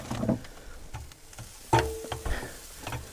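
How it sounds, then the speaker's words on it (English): An onion fries in a pan inside a VW T4 camper van, with a soft sizzle beneath scattered clicks and scrapes of a spatula stirring, close and fairly quiet. "we'll fry that onion off a little bit first"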